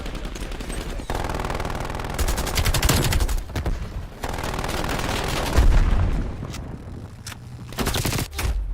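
Enemy gunfire in Call of Duty Warzone, loud sustained machine-gun bursts and rapid shots with heavy booming impacts, broken by short pauses and ending in scattered sharp cracks.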